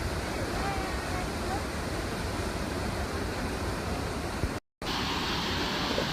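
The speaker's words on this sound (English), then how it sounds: "Trying to show you this awesome waterfall." A waterfall in the Alaskan woods gives a steady, loud broadband roar of rushing water that fills the whole stretch, interrupted by one brief dropout near the end.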